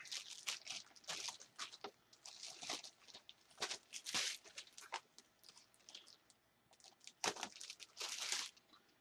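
Plastic bubble wrap packaging from a laptop keyboard replacement is crinkled and handled up close, a quiet run of irregular rustles and crackles with brief pauses.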